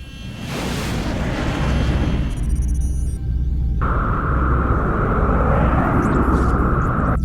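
Interceptor jets launching in the strategy game XCOM Enemy Within, a loud sustained roar of engines with a steady whine building and holding through the later half, no voices.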